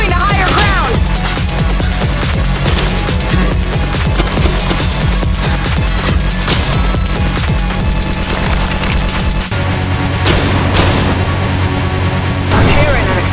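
A loud, dense run of explosive booms and gunfire-like crashes from a fight in the video game I Am Your Beast, with repeated sharp bursts that shift to a deeper rumble near the end.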